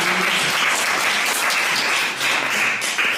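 A church congregation applauding during a service, a dense, steady burst of many hands clapping that fills the room at close range.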